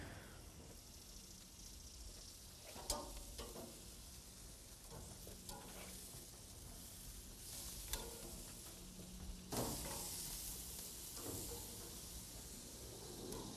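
Eggplant slices sizzling in a frying pan as they are flipped, a steady faint hiss with a few brief scraping clicks of turning, fairly quiet throughout.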